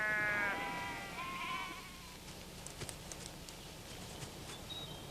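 Sheep bleat on vast sheep stations that replaced old guanaco hunting grounds in Fuegian country: a few loud, wavering bleats open, followed by fainter scattered hoof-like taps and distant bleats over a low outdoor hum.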